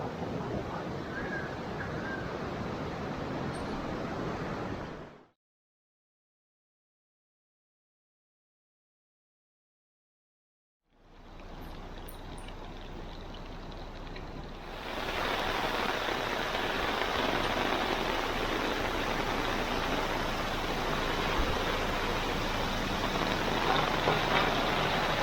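Floodwater rushes across a paddock during heavy flood rain on the Sunshine Coast, a steady broadband roar that cuts out briefly, then returns louder and denser, continuous and close with no break in the wash.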